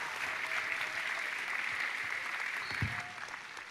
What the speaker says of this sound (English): Can we have a round of applause for people journeying far?